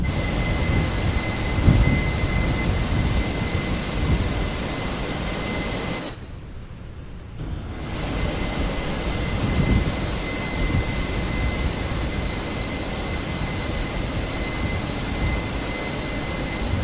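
A jet engine spins up and roars steadily in Microsoft Flight Simulator 2020, with a constant loud whine and rumble that briefly dips for a couple of seconds midway before resuming at full level.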